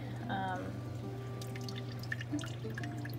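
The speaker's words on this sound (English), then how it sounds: "So I'm gonna keep pouring this coffee." Hot water trickles and drips steadily through coffee grounds in a home pour-over brewer, a quiet, close, continuous pattering with a voice faintly present near the start.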